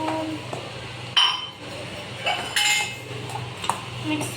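A spoon clinks and scrapes against a dish while borugulu, a puffed rice mixture, is tossed with peanuts, in uneven bursts of bright metallic chinks close by.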